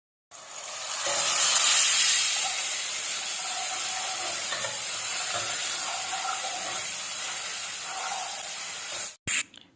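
Onions, ginger-garlic paste and whole spices such as cardamom, cinnamon, cloves and black pepper fry in a pot for yakhni pulao with a loud, steady sizzle that ends in a brief clatter.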